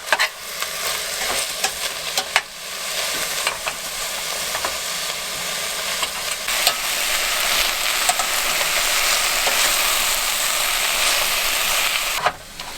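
Garlic noodles fry on a butane camp stove inside a U-Haul in -35 degree cold: a steady close sizzle with scraping stirs and occasional clinks, no voices.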